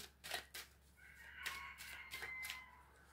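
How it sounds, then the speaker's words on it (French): A rooster crows a few times at a distance, faint but distinct, its drawn-out calls rising and falling over a quiet background. "Pas content le coq, hein."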